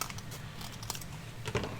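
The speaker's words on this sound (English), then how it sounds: "I'm just going to cut straight across" Scissors snipping straight across a paper bag while making a mini journal, heard as a run of close, crisp, irregular cuts and crinkles with no talking.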